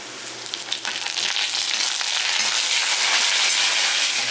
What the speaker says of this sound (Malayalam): നമുക്ക് കറിവേപ്പില ചേർത്ത് കൊടുക്കാം.